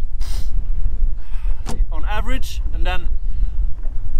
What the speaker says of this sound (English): it's been a windy day